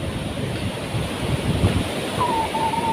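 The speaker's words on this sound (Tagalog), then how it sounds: "So yung alon dito, ganito po yun, araw-araw yan." Ocean waves roll in steadily at Sabang beach in Baler, Aurora, a continuous close surf rumble and wash with a faint high tone drifting in near the end.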